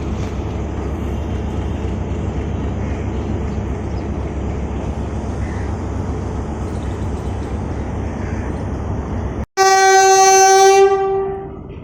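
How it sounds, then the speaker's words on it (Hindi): The Sir Syed Express, hauled by HBU20 locomotive 8059, departs Faisalabad station in Pakistan with a steady, loud rolling rumble. A brief gap is followed by a powerful, sustained horn blast close by. "8059 के साथ सर सैयद एक्सप्रेस का डिपार्चर होने लगा है।"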